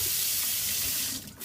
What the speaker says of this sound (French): On va rincer le linge à l'eau chaude